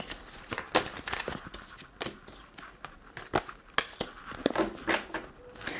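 Tarot cards are handled and drawn from a deck, giving continuous close rustling, sliding and papery flicks with frequent small snaps.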